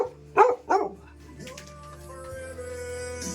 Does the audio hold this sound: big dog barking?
yes